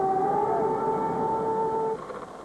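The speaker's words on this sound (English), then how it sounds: "an air raid siren, warning of another Allied raid over Baghdad" A steady wailing air raid siren over Baghdad during the Iraq War holds a sustained tone, fairly distant, then cuts off near the end leaving a low background rumble.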